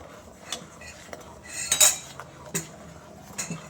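A spoon stirring milk lehya in a metal pot, with scattered clinks and scrapes against the vessel and one louder clattering rattle near the middle, over a quiet background.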